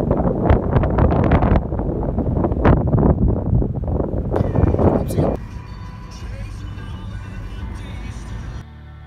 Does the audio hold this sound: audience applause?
no